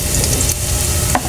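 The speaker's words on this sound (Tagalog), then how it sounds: "Igisa na po natin yung ating bawang." Garlic sautéing in hot cooking oil for a ginisang cauliflower with ground pork, a loud close continuous sizzle with light stirring clicks.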